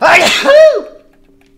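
A single loud, close sneeze bursts out sharply, then trails off into a brief tonal tail, with a short spoken exclamation mixed in.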